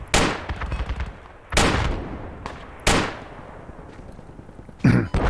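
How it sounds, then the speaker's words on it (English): Sniper rifle shots in a military shooter game's bunker and hill assault, three loud sharp cracks spaced about a second and a half apart with a fourth near the end, each trailing off in a reverberant echo, no voices. "you got a sniper up here somewhere"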